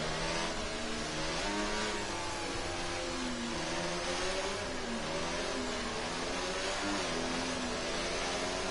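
Formula racing cars in a racing video game, engines revving and accelerating in a continuous loud whine that rises and falls without pause.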